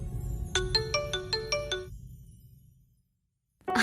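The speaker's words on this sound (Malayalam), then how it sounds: "ഫോൺ അടിക്കുന്നു" A phone rings with a bright electronic ringtone, a rapid run of repeated tonal beeps lasting just over a second against a low room rumble, then fading to silence before a sudden new sound cuts in at the end.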